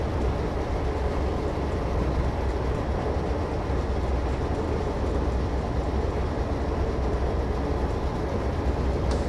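Train running on a long stretch of track through countryside in a train simulator game, a steady rumbling drone with constant low roar and no breaks, at reduced throttle.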